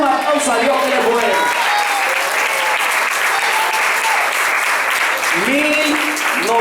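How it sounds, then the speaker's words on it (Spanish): A church congregation breaks into sustained, loud applause during a worship service, a dense wash of clapping that runs throughout, with a voice speaking over it near the start and again toward the end. "Si tú lo crees, dale un aplauso a Dios que le puede."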